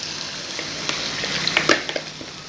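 Dough made from potato for a pizza sizzling in a pan of lightly heated oil over a medium flame, a steady crackling fry with a few sharper spits and pops, close and alone.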